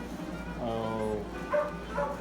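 A rescued puppy gives high whimpers and short yips, close and moderately loud, mixed with a person's soft exclamation nearby.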